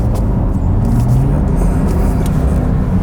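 A Porsche engine drones loud and close while the car drifts on ice, a steady low rumbling roar with a sustained high-revving tone, no talking.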